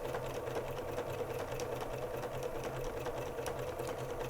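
A sewing machine stitches around the edges of applique fabric on a small quilted leaf table topper, a steady rapid mechanical whir running close and continuously without talk.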